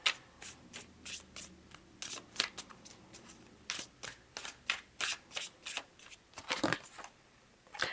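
A deck of oracle cards shuffled by hand close up, with quick repeated riffling bursts in an irregular rhythm in an otherwise quiet room.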